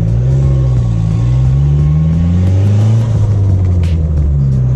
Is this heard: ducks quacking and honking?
no